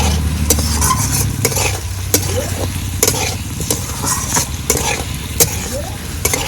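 Fried potatoes stirred into an oily spice masala in a pan for sajpithe, loud close sizzling with repeated sharp scraping and clinking stir strokes in an irregular rhythm.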